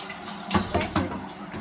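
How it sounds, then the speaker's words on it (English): Tap water runs steadily into a sink while water bottles are washed, a close, continuous splashing flow with brief surges as the bottles are moved under the stream. "Okay guys, so we're washing our water bottles."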